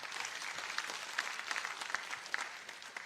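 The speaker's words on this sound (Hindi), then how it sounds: "कलिता जी के लिए ताली बजाओ जरा" Audience clapping at a political rally in Bengal, a steady wash of applause with scattered sharper claps, moderately distant and continuous throughout.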